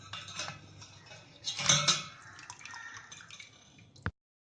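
Cold water is poured over milk chenna held in a cloth, making a trickling splash that swells briefly in the middle. Faint drips and taps follow, and the sound ends with an abrupt knock.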